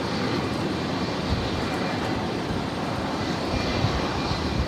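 An airliner approaches Brisbane Airport, its jet engine roar a steady, broad, continuous rumble held at even loudness throughout, with no voices.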